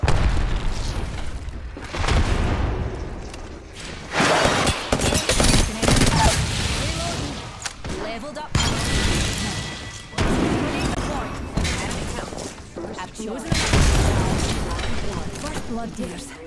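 Heavy booms and bursts of gunfire from a frag grenade fight in Apex Legends, several loud blasts spread through a busy firefight with voices talking throughout.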